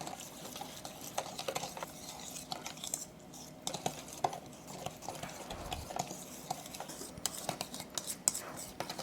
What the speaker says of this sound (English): Now let's give the sauce a good mix